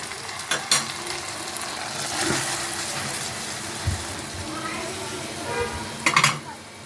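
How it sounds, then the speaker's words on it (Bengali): Small amudi fish sizzle as they fry in spicy masala in a pan, with a spatula stirring and scraping the metal. The sizzle is steady and close, with sharper clatters near the end. "ভেজে নেব একদম ঝাল ভাজা দেখুন রেডি হয়ে গেছে"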